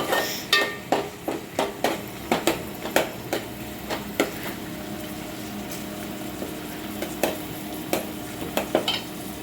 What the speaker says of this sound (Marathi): कांदा ट्रान्सपरंट होईपर्यंत आपल्याला ढवळायचं आहे